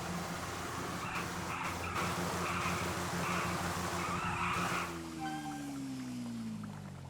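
Motorbike tire burnout in Grand Theft Auto V, a steady loud skidding screech with engine drone running throughout, the pitch sliding as it winds down near the end.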